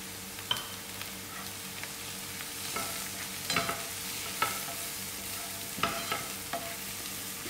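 Green chilies fry in oil with masala for a tinned pilchard chutney, a continuous soft sizzle with scattered light clinks and scrapes of stirring, close and moderately quiet.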